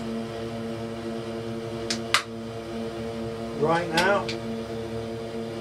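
A Twin Otter propeller airplane climbing out after a maximum-performance takeoff, its steady, loud engine and propeller drone running continuously beneath a person talking.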